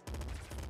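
Rapid assault rifle fire in the video game Nuclear Throne, a steady string of loud, closely spaced bullet shots with a short pause partway through.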